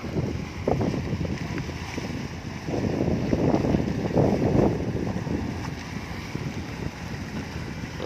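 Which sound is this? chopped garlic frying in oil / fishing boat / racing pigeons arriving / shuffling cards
fishing boat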